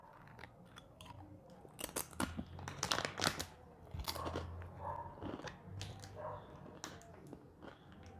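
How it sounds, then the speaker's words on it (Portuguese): A dog growls and bites or chews at close range, low rumbling growls mixed with crunchy snapping bites, no talk. "Oh, meu Deus, que cachorro satânico!"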